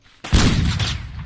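Gunfire in the survival video game Drive 4 Survival, fought against raiders: a sudden loud burst of shots that rings on and fades out over a second, with no talk over it.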